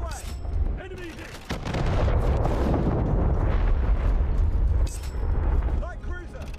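In War Thunder Mobile, naval shells hit an enemy light cruiser in a series of heavy booming blasts with rumbling gunfire, while a voice speaks over the battle.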